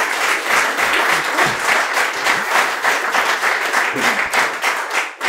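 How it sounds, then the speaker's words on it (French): A small audience at a French-language podcast taping claps steadily and briskly, close and loud, for about five seconds. "on peut l'applaudir"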